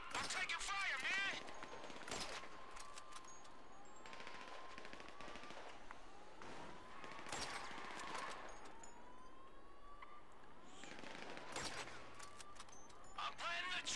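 Bursts of automatic gunfire in Grand Theft Auto 5, rapid rattling volleys recurring over a busy game soundscape with sirens wailing and a voice talking over the action.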